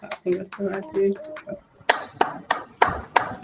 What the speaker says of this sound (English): if you can unmute your mics and give everyone a quick round of applause